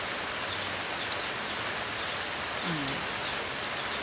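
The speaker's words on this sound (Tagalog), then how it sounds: "Lakas ng ulan." Steady heavy rain pours down in a dense, even hiss, with a faint voice briefly murmuring beneath it.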